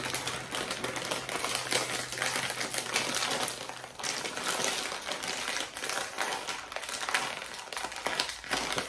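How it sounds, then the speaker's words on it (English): A bag of Jack and Jill Chippy garlic and vinegar chips being torn and wrestled open: continuous close crinkling and crackling of plastic packaging, with bursts of rustling and no talk. "I've just been having such a difficult time opening these packages."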